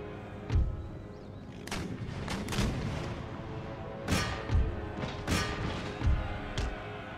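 Musket volleys in Empire Total War, a battle soundscape of repeated booming shots and thuds that come in bursts over a continuous rumbling backdrop.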